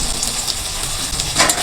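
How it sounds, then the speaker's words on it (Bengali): Tomatoes fry lightly in a pan for pasta, with a steady close sizzle and hiss and a short swell of louder crackling near the end. No one speaks. "টমেটো, একটু হালকা ভেজে নেব"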